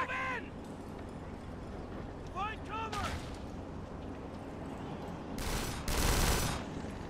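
Bursts of gunfire in the Kane & Lynch 2 shootout with a rooftop sniper, heavy volleys crackling near the end over a constant rumbling battle din, with short caw-like calls earlier.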